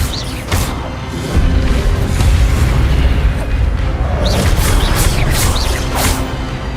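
Incendio fire spells cast in Hogwarts Legacy during combat: a steady roaring, crackling flame rush with several whooshing bursts and booms that layer over continuous battle noise.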